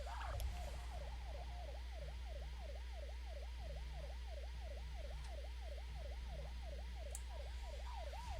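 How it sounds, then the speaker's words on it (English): A police car siren in the Spider-Man 3 video game wails in a steady, rapid up-and-down sweep that repeats evenly for the whole stretch, loud and continuous over a low game hum. "At least he knows how to work his sirens."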